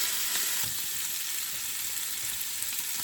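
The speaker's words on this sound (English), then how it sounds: "This time I let it in the pan for a long time to make them really well done." Thin meat strings fry in a pan with a loud, dense, continuous sizzle that stays close and even throughout before cutting off abruptly at the end.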